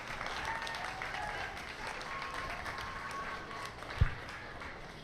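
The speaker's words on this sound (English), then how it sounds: "Please give a round of applause for my senior showman." A crowd at a 4-H pygmy goat show applauds with steady, moderately distant clapping, and a single dull thump sounds near the end.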